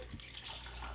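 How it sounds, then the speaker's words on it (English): A lychee martini is poured after the top is popped, giving a steady, close splashing rush of liquid that runs alone for about a second without talk. "And let's pop the top and pour."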